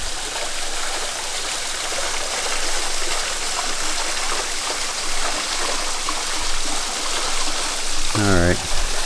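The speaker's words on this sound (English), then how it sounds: "And there's your waterfall right there." Garden waterfall and stream pour steadily in a dense, continuous rushing wash that holds at the same level throughout, with a brief voiced sound near the end.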